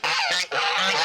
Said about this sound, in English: these geese are so loud